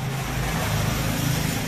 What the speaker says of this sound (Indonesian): contoh bentar lagi kalau ada suaranya mobil